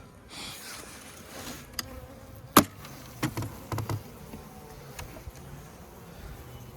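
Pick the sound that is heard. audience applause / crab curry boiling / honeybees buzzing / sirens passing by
honeybees buzzing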